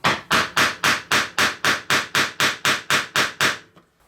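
A mallet strikes a chisel to trim dovetail recesses in wood, twelve sharp, evenly spaced blows in a steady rhythm, loud and close, ending with a faint light tap.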